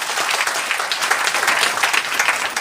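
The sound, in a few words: audience applause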